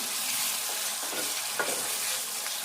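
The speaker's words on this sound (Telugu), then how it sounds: "ఇప్పుడు అల్లము వెల్లుల్లి పేస్ట్ వేసుకుందాము, ఒక చెంచా. ఇదంతా కూడా మంచిగా వేగాలి" Ginger garlic paste fries in a pan for a cabbage tomato curry, giving a continuous close sizzle with light stirring scrapes and no voices.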